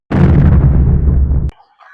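A single loud, sharp blast from a snake cobra firecracker erupts and roars for over a second before cutting off abruptly into near silence.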